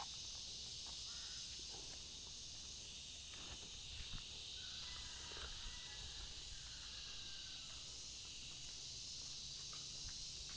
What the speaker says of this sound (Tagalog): Kuliglig yun, ano?